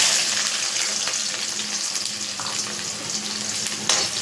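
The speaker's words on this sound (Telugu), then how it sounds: "ఇప్పుడు ఉల్లిపాయ పచ్చిమిర్చి అయితే వేస్తున్నాను." Onion and green chillies fry in hot oil in a kadai, a loud, close, continuous sizzle with occasional light stirring clicks.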